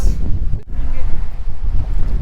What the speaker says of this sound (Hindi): कितनी तेज हवा चल रही है ना।